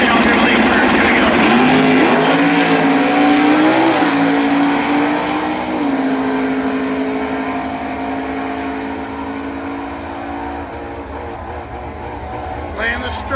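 Drag racing cars, a Camaro and a Challenger, roar down the strip at an NHRA Sportsman event at Thunder Valley, engines loud and sustained then fading into the distance as an announcer talks over them.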